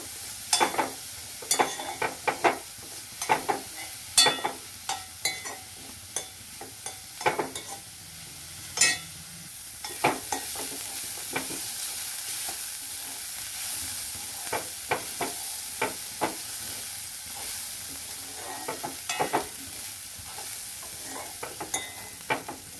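A utensil scrapes and clacks in a pan in irregular strokes as crushed coconut is stirred in, while food sizzles steadily underneath; no voices.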